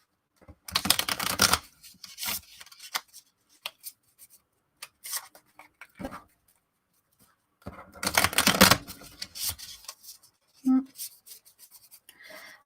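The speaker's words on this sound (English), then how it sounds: "riffle shuffle a bunch." A deck of tarot cards is riffle shuffled by hand, with two bursts of rapid fluttering card riffles separated by softer handling taps and slides, close and moderately loud.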